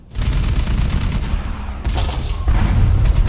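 Tank cannon fire in War Thunder during a tournament match: a loud, continuous wash of heavy battle noise with a couple of sharper blasts cutting in, all close and dense with no clear gaps.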